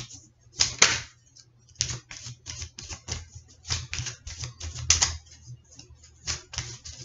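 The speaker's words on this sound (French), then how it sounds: "Je vais tirer 9 cartes." Tarot cards shuffled and drawn for an Aquarius reading: irregular crisp flicks and slaps of cards, some sharper clusters, close and fairly quiet over a low steady hum, with no voices.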